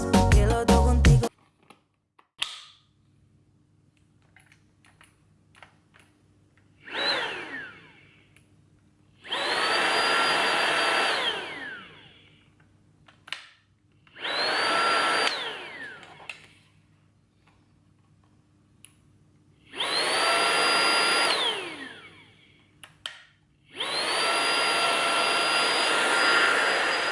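Handheld vacuum cleaner switched on and off in five separate bursts of a few seconds each, a loud whining suction roar, during household cleaning with no speech.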